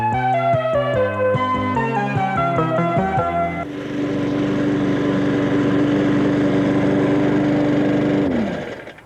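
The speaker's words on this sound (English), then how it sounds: "Lawn mowing. It's a job that most of you don't like to do." A lawn mower engine running steadily and fairly loud as it mows a lawn, its hum holding an even pitch before dropping away at the end, following a stretch of melodic music.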